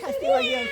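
A person imitates a cat with a short, close meow, rising and then falling in pitch, during a party game.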